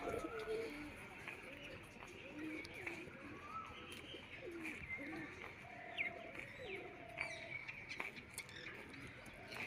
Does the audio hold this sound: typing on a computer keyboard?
no